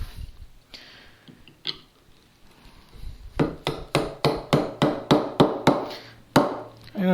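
A chisel is driven into wood with about ten sharp, evenly spaced mallet blows, chopping a mortise for a workbench near a knot. Quieter scraping and handling come first, then the loud, close strikes.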